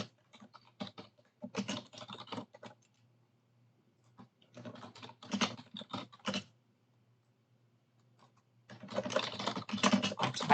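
Rapid typing on a computer keyboard in close, dense bursts of clicks separated by short pauses, the final burst the busiest.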